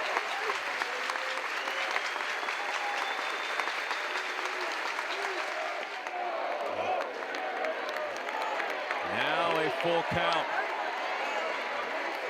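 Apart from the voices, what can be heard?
baseball crowd cheering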